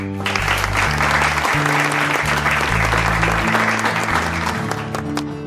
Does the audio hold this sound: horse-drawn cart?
no